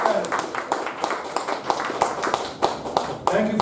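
An audience at a meeting gives a round of applause, loose, uneven hand claps rising and falling in bursts, mixed with voices talking close by.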